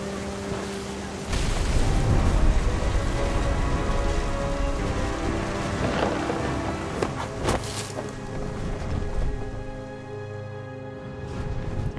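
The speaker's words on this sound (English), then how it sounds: "The thunder sounded much too close and full of angry power." Steady heavy rain pours in the What Remains of Edith Finch video game, with low rumbling thunder swelling beneath it, a dense continuous wash of sound that fades slightly toward the end.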